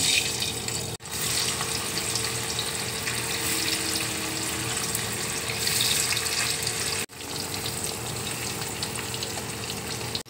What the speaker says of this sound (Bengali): এবার আমি পনিরগুলো এক এক করে তেলের মধ্যে ভেজে নেব।